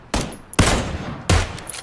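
Three loud, close gunshot bursts from the battle royale video game PUBG, each a sharp crack with a short decaying tail, spaced roughly half a second to three-quarters of a second apart, with no talking over them.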